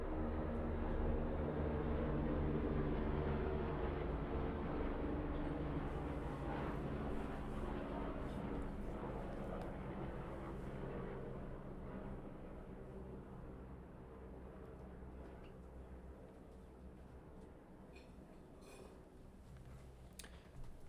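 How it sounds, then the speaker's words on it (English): A low-flying helicopter passes overhead near a bomber base, a loud steady rotor and engine roar that fills the scene and slowly fades as it moves away. "Yeah, that sounded like a helicopter."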